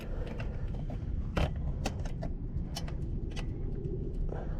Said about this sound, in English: So you're gonna want to start screwing this on.